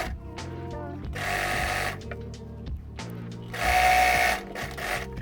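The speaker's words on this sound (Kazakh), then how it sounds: "түзу тігіспен тігіп алатын боламыз" A sewing machine runs a straight stitch along the hem of a girl's apron, whirring loudly in two sustained runs, the second louder, with quieter mechanical clicks and handling noises between them.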